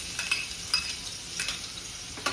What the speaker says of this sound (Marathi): लसूण चांगला परतून घ्यायचा.